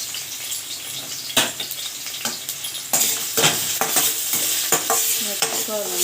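Thinly sliced onions and green chillies being stirred in a hot oiled pan for egg rice, repeated scraping strokes over a bright sizzle, growing louder partway through, no voices.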